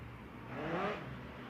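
A midget race car at a speedway passes with a short whirring engine note that rises and fades over about a second, fairly faint and somewhat distant, with no talk.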